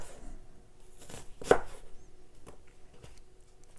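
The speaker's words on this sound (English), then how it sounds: "Some people slice them like that," A knife slicing an onion on a cutting board, giving a few soft, scattered cuts with one sharper chop near the middle, close and quiet with no talking.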